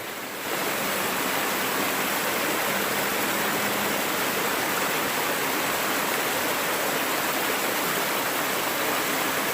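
A waterfall on the Appalachian Trail just north of the Smokies in early March roars in a steady, dense wash of rushing water, loud and close, with no voices.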